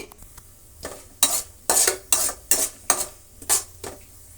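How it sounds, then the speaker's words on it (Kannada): Mustard seeds and chana dal fry in hot oil in a pan, with a spoon scraping through them in about eight distinct, evenly spaced strokes over a low sizzle, close up. "ಅದರ ಜೊತೆಗೆ ಸಾಸಿವೆ ಸ್ವಲ್ಪ ಸೇರಿಸ್ತಾ ಇದ್ದೀನಿ ಅದರ ಜೊತೆಗೆ ನೋಡಿ ಕಡಲೆಬೇಳೆ ಒಂದು ಸ್ಪೂನಷ್ಟು ಸೇರಿಸ್ತಾ ಇದ್ದೀನಿ"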